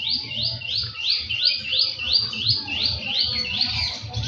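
A myna perches nearby in a tree-filled residential compound, giving a steady series of about a dozen bright, rising chirps in even rhythm, fairly close and clear over a low background murmur.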